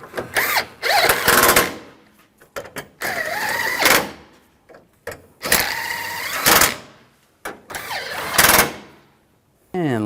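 Power tool driving fasteners tight on the power steering cooler of a 2007-2013 Chevrolet Silverado 1500, several short loud whirring bursts with pauses between them, close by, with speech at points.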